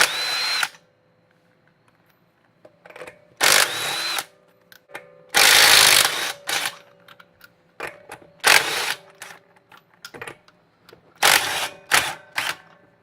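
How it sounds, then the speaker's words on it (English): Impact gun spinning off the wheel lug nuts of a Ford Mustang, in several loud, separate bursts of whirring rattle with short quiet gaps between them and no talking. "First thing you got to do is remove the lug nuts."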